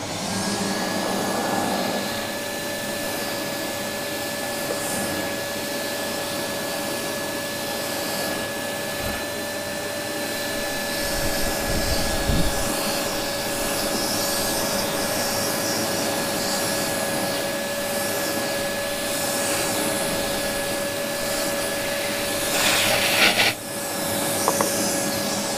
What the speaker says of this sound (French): Donc je vais mettre en route l'aspirateur.